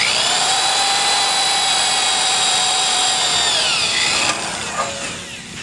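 Drill with an 1/8-inch bit bores a hole in sheet metal, a loud, sustained close whine that drops in pitch near the end as the bit breaks through, then winds down.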